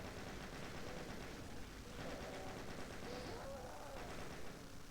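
Rapid gunfire in the video game Doom rattles on continuously in quick bursts, fairly quiet in the mix, with a faint tonal whine drifting through partway.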